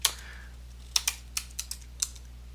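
Fingers tap a computer keyboard in a few short, light clicks, spaced unevenly over a low steady background hum, quiet and close.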